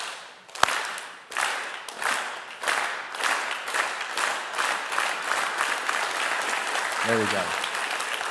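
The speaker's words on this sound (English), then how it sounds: "let's slow clap this passage in as well" A church congregation performs a slow clap, with distinct unison claps starting spaced apart and gradually quickening into a rolling rhythm, while a voice speaks briefly near the start and a low tone sounds near the end.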